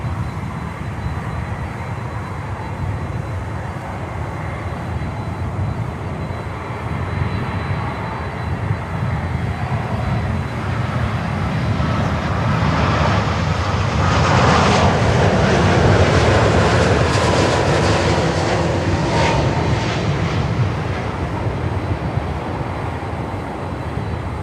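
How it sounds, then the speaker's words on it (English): An American Airlines Boeing 787-8 Dreamliner arriving from Sao Paulo roars past at Miami airport, a steady broadband jet rumble that swells toward the middle and then slowly fades. "There we go, American Airlines 787-8 Dreamliner from Sao Paulo"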